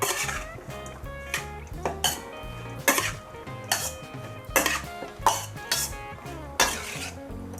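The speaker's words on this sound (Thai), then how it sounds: "ก็คลุกเข้า ส่วนผสมให้เข้ากันเลยค่ะ" Utensils toss a sliced pork belly salad with chili, shallots and garlic in a bowl, making repeated rhythmic clinks and scrapes of metal on the dish, close and distinct, with no talking.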